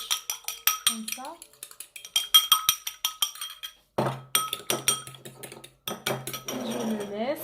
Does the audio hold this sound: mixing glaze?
yes